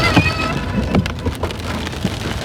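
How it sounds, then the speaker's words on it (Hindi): Steady rain patters down close by on the road from Delhi to Nainital, a dense hiss of drops with occasional louder splashes, no voices. "लेकिन बारिश शुरू हो गई।"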